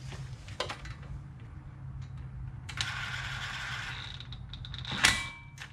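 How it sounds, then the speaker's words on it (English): Impact wrench lightly snugging bolts during a CV axle and brake job on a 2006-2012 Ford Fusion, with short mechanical bursts and clicks, a sustained rattling run in the middle and a sharp metallic clack near the end. "All I'm gonna do is lightly go in with the impact until it just hits one click"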